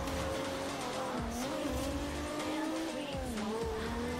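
A car drifts in the video game Forza Horizon 2, tires squealing in long wavering tones over a steady engine drone. The sound is continuous and fairly loud, with no talking.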